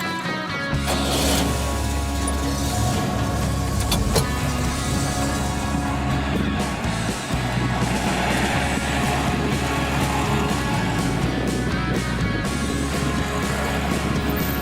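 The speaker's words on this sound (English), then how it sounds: "And the sound of the engine." A Soviet IZH 27156 cargo-passenger car in early-version form runs steadily with a loud, continuous engine drone and rattling mechanical hum throughout, with no pauses.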